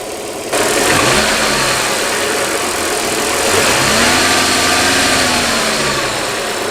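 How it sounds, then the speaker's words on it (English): An Audi/VW car engine runs steadily, then revs up with a sudden rise in loud, rumbling noise that holds near and strong before easing slightly, during a test of a weak PCV system. "Let's try revving the engine."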